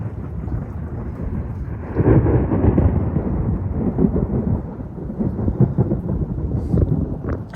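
Thunder rumbles through a lightning storm in Houston, Texas, a continuous deep roll that swells louder after a couple of seconds and keeps grumbling with rain hiss, close and heavy, no voices.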